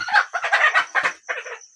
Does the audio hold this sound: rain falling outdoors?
no